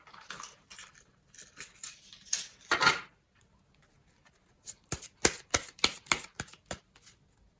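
Tarot cards are shuffled and drawn at close range, with soft papery riffles and flicks in uneven bursts, then a quick run of crisp snaps as cards are laid out.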